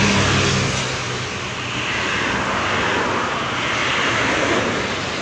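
A Budiman intercity bus on the Tasikmalaya–Cikarang route speeds along a single-lane one-way toll road in Lebaran return traffic, giving a loud, close, steady roar of engine and tyres with no talking.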